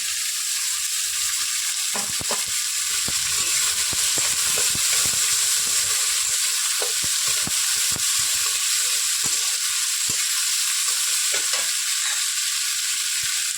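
Ghetkochu (taro) stalks drop into a hot pan already frying onions, giving a dense, steady sizzle with occasional stirring clinks throughout, close and continuous.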